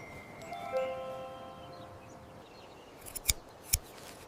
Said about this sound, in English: One last snip.